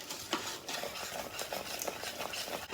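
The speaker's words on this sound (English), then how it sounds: "And stir these all together." A spoon stirs a candied yam spice mixture of sugar, cinnamon and salt in a bowl, giving a steady scraping rustle with repeated soft strokes, close and fairly quiet, with no talking.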